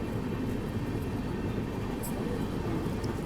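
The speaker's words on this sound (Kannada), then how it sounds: "ಕೋಚುವಲ್ಲಿ ಅಹಿಲ್ಯಾನಗರಿ ಎಕ್ಸ್ಪ್ರೆಸ್ ಬಂದೈತ್ರಿ ಈಗ ದೇವಾಸ್ ಜಂಕ್ಷನ್ಗೆ" The Ahilyanagari Express pulls into Dewas Junction with a steady, close, low rumble and rolling wheel noise that holds level throughout, with no voices.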